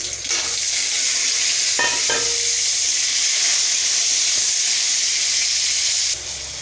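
Green chillies and mango pieces frying in a pan, a loud steady sizzle and hiss with a few brief stirring clatters, the frying continuing throughout before settling at the end.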